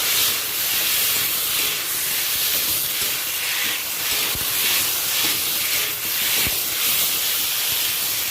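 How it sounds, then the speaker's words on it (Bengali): Spice paste of ginger, garlic and green chili fries in a pan with a loud, continuous sizzle and hiss, steady throughout with a few soft knocks underneath. "আমি ভালো করে মশলাটা কষিয়ে নিয়ে ফিরে আসছি"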